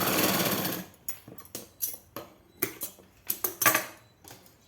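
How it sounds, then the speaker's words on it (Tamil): A sewing machine stitches a blouse seam, opening with a fast whirring run, then short stop-start bursts of rattling needle strokes, close and clear. "தையல் கூட்டதை இப்படி ஜாயின் பண்ணிக்கிறோம்"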